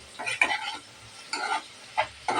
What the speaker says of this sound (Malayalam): ഒരു 5 മിനിറ്റ് കഴിയുമ്പോൾ ഒന്ന് ഇളക്കി കൊടുക്കണം കേട്ടോ